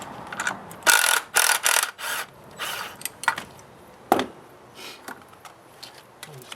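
A ratchet with a 14mm socket works a bolt loose from a bracket during a VE Commodore timing chain job, giving bursts of rapid clicking separated by short pauses, close and fairly loud.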